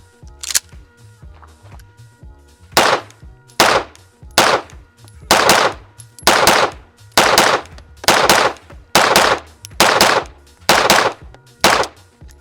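OA Defense 2311 Pro 5-inch pistol firing 115 grain factory ammunition at a target, with about nine loud, sharp reports in a steady, evenly spaced string, each shot ringing out close by with no talking.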